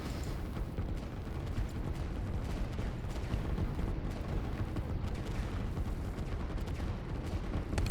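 Artillery fire in the real-time strategy game Line War, a continuous rumbling barrage of dense low booms and crackles at moderate level, with no talk.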